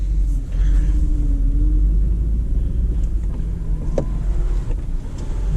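Low, steady engine rumble from a 2004 Audi Allroad with the 4.2 V8 while driving, heard from inside the cabin with road and wind noise and a faint rising whine.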